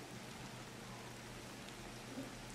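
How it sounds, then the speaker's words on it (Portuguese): Steady, faint rainfall hisses evenly throughout a scene in the video game Ancestors: The Humankind Odyssey, with no voices or other sounds over the soft wash of rain. "como está chovendo."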